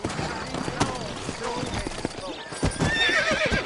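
Horse hooves clop steadily while a horse whinnies in the video game Red Dead Redemption, with someone talking over the sounds in a busy outdoor scene.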